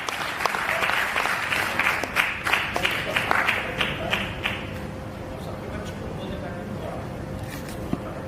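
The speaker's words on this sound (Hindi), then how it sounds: "एक बार आपको जोरदार तालियां बजाइए" A large crowd at a Hindi comedy poetry gathering claps loudly and steadily, the sharp claps gradually thinning and fading into a quieter murmur of the room.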